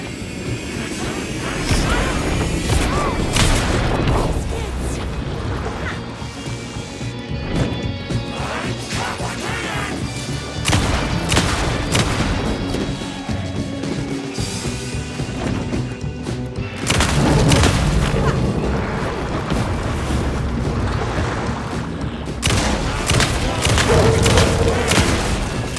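Gunfire in the video game Alan Wake II, Night Springs DLC, plays out as a dense barrage of loud booming shots and crashing impacts. It pounds almost continuously, with brief lulls between bursts.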